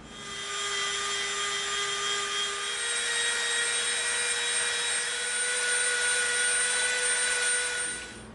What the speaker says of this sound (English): we're going to take our 6mm piece and we're going to round the edge right to that line with our Dremel